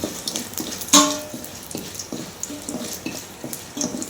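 Curry leaves dry roasting in a pan for idli powder, with a run of close scraping and stirring clatters, a sharp metallic clink near the start and a light crackle underneath.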